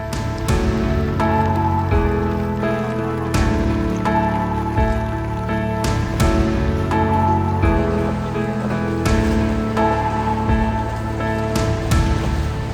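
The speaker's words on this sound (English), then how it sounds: "Some shelter from the rain." Rain falls steadily during a boat tour in Ninh Binh, Vietnam, as loud, close patter and splashing, with a layered tonal ringing underneath and sharp drip impacts breaking through at intervals.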